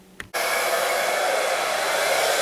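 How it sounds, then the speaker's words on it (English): A brief click and then a hair dryer switches on to dry paint on a swimbait, blowing with a loud, steady whoosh that continues without a break. "we're ready for the hair dryer again"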